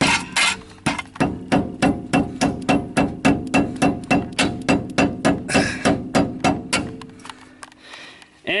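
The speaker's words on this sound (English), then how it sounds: "I'm going to try to tap this off with a rubber mallet" Repeated rubber mallet taps on a metal part, about twenty steady, evenly spaced knocks, close and fairly loud, slowing and fading near the end.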